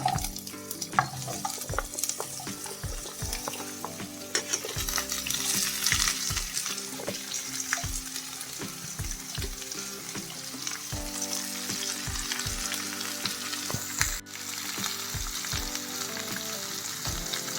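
Ridge gourd fries in a pan with green and dried chillies for a sesame-powder stir-fry, a strong, close sizzle punctuated by frequent, regular spatula knocks and scrapes, with no speech.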